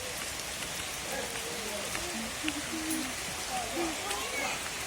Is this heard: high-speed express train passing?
no